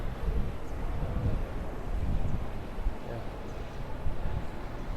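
Strong wind on a Mumbai rooftop rushes as a constant loud roar, buffeting the microphone with low rumbling gusts throughout and no clear voices.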